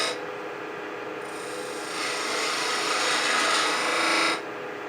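A skew chisel cuts wood on a lathe while a multi-axis twig pot is turned, giving a steady, close rasping hiss that swells louder through the middle of the cut before easing off.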